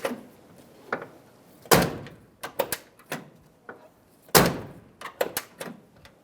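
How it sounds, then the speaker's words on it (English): The door of a 1992-1996 Ford F-150 pickup is shut several times in a row. Loud, sharp slams are each followed by softer latch clicks and rattles, close to the microphone, with no talking. "go ahead and shut your door"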